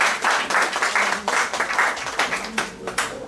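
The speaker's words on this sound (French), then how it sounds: "Alors on peut l'applaudir." Applause from an assembly at a community event, a dense burst of many hands clapping, loud and close at first, with the claps thinning slightly toward the end.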